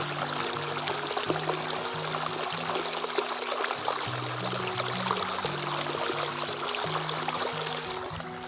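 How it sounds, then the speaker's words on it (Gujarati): Water gushes steadily from an irrigation pump motor outlet on a wheat farm, a constant rushing flow with a low mechanical tone beneath it, close and without talk. "આપણે મોટર પાસે જાવું કે પાણી કેવું આવે છે આપણને ખબર પડે"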